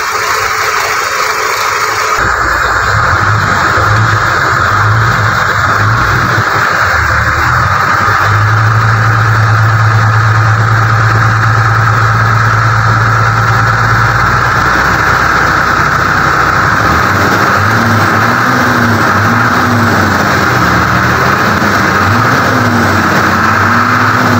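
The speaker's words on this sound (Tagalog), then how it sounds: "Tapos umugong yung makina mo, no?" An overheating car's engine idles with a steady, loud hum and mechanical drone, its pitch shifting slightly and wavering near the end.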